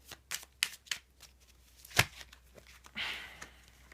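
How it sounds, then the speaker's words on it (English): Tarot cards being shuffled up close in quick riffling bursts and soft slaps, irregular and crisp, with a longer riffle near the end. "Sorry, I'll shuffle over here."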